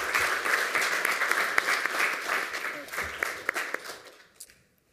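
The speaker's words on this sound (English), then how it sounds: "give him a round of applause for that" Audience applause at a lightning-talk session of the 27C3 hacker congress, a dense round of clapping with sharp individual claps that tapers off and stops near the end.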